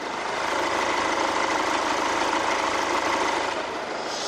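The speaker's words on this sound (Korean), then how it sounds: "이 경유 엔진치고 굉장히 부드러운 엔진 소음 기대를 하실 수가 있고요" A running Audi/Volkswagen group diesel engine heard close up in the engine bay, a steady, even broadband rumble with no breaks, fading slightly at the end.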